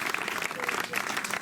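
An audience applauds at a live event for a singer-songwriter and poet, a steady patter of clapping that lasts throughout, with a voice speaking over it.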